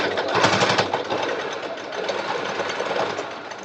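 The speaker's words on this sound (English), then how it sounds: "I think I'm gonna sew the bottom so it looks nice." A sewing machine stitches fabric in quick bursts, its close, steady mechanical whirring and tapping running for a few seconds with no talk.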